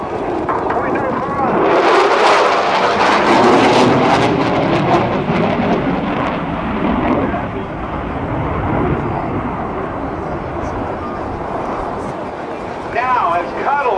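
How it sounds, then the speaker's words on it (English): An F/A-18F Super Hornet makes a high-speed pass near Mach 0.9 at a Naval Air Station Oceana airshow, a loud broadband jet roar that swells and holds for several seconds as crowd noise and an announcer's voice carry underneath. "Coming up with high-speed pass."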